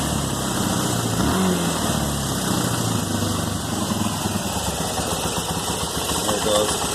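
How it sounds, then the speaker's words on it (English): A 2001 Yamaha TTR 250 dirt bike engine idles steadily after a carburetor rebuild, a close, continuous mid-pitched putter with the idle running slightly high. "She fired right up. Idle might be a little bit high."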